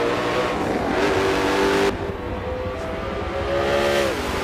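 Race car in Forza Motorsport 7 lapping Circuit de Catalunya: a loud, steady engine drone with shifting revs, a brief drop as it lifts off, then pulling again.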